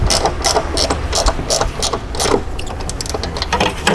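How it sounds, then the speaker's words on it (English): A ratchet wrench clicks while working on the engine of an abandoned Nissan R32 GTR, giving a dense run of rapid metallic ratcheting and clanks that continues steadily throughout. "Let me just grab a ratchet wrench."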